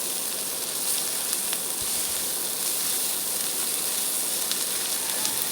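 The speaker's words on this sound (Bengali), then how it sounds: "মশলাটা পেঁয়াজের সাথে সুন্দর করে একটু ভেজে নিব" Spice paste frying with onions in a pan while making an oil-free poached egg dish: a steady, close, continuous sizzle and hiss without pause, and no talking.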